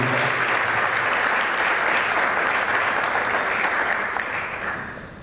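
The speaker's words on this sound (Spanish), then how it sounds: "yo les pido un aplauso para nuestro expositor" Steady applause from an audience fills the whole stretch, dense and even, tapering slightly near the end.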